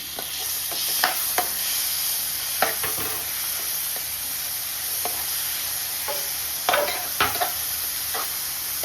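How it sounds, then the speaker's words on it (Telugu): Tomatoes frying in an oil tempering for Rayalaseema uggani, with a steady sizzle and a few scattered scraping stirs of a spoon in the pan throughout, close and alone. "టమాటాలు బాగా మగ్గేంత వరకు తాలింపును వేసుకోవాలి."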